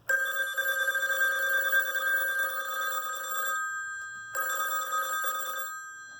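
An old telephone bell, driven by a roughly 20 Hz signal through an amplifier, rings loudly in one long, bright, clattering burst, falls silent for a moment, then rings again more briefly.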